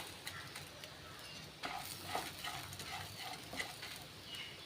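Sesame seeds and curry leaves dry-roasting in a pan give off a soft, steady crackle, with faint scraping stirs over a quiet kitchen background.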